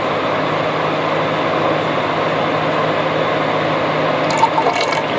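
Vinegar poured in a small splash into a homemade barbecue sauce with ketchup, a steady close liquid pour and trickle running for about five seconds with no talking.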